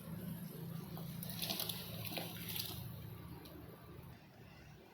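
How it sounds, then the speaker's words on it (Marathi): Water bubbling at a steady boil in a pot with barnyard millet, a continuous low rumble topped by hiss, close by with no voices. "इथे पाहू शकता छानपैकी उकळी आलेली आहे"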